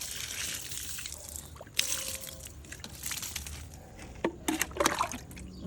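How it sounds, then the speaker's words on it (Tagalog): Water from an air conditioner trickling and dribbling steadily, with a few brief splashy drips toward the end; moderately close with no voices. "Ito ay tubig galing sa aircon."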